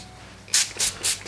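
Three short hissing bursts of light cooking-oil spray over tomatoes, each about a quarter second with brief pauses between, close and fairly loud against a quiet kitchen.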